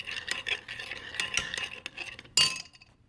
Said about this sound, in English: Just stir it with the warm chocolate and butter and it'll start